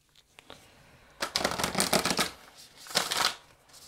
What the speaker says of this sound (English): I'm going to pull a card from Whispers of Love.